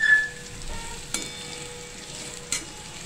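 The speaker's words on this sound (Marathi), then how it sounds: "हे पहा आपण तेलामध्ये जिरं आणि लसणाची फोडणी केलेली आहे।" Cumin seeds and garlic sizzle in hot oil while a tempering is cooked for garlic fenugreek greens, a steady soft frying hiss with two brief sharper crackles or stirring clatters partway through and no talk.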